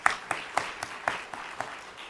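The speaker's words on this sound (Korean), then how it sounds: "우리 하나님께 영광의 박수 한번 올릴까요?" A church congregation clapping together during a Sunday worship service, a short run of evenly spaced claps in a steady beat that echoes faintly through the room.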